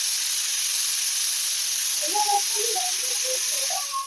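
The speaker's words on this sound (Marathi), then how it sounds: "अगदी थोडंसं तेल टाकून आपण ही डाळ आणि बाजरी चांगली मस्त फुलेपर्यंत भाजून घ्यायची आपल्याला" Dal and millet roasting in a little oil in a pan, a steady close hiss with a few small pops and crackles rising toward the end.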